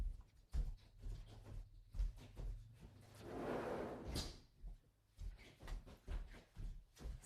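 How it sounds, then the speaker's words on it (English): A household door is pushed shut with a few thumps and rattles from the door, followed by a short whoosh and a latch click, with birds and outdoor noise in the background. "I have to shut my door."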